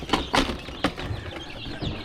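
Brahma chickens cluck in a brooder shared with turkeys, a few short, soft bursts close by over a quiet background.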